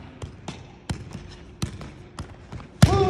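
A football is kept up in the air with repeated thuds of foot or knee on the ball, about eight irregularly spaced close impacts, followed by a louder jolt and a brief clattering sound at the end.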